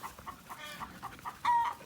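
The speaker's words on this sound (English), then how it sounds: "We got about 3 dozen chickens out" A flock of about three dozen chickens on a kennel farm clucks in short, scattered bursts, fairly close, with one louder squawk near the end.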